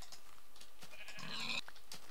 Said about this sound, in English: there's some there's a sheep